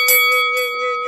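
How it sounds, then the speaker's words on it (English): Bright metallic bell chime rings out once with a sustained, shimmering tone that lingers and slowly fades, loud and close, used as a notification alert with no voices present. "make sure you hit that notification bell like this"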